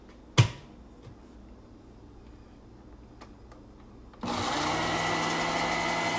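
A blender on its stir setting whirs steadily and loudly while mixing a brown butter vinaigrette. It kicks in abruptly after a sharp click and some quiet handling noises.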